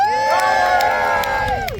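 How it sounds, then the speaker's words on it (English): A festival crowd at a history event cheers and whoops for a Boudica reenactment, a loud, sustained burst of many voices lasting under two seconds and fading at the end. "Cheer for Boudica!"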